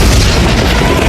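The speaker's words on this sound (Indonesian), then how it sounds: "Tiba-tiba mesin helikopter Ray meledak yang membuatnya tak terkendali." Helicopter engine explosion in a disaster film: a brief, very loud, deep boom that fills the whole moment with rumbling force.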